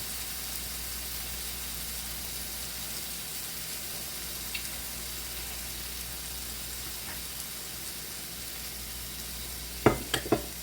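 Shrimp sizzling on a homemade hibachi griddle, a steady, even hiss of frying heard close up and continuing alone, with a few sharp clacks of utensils near the end.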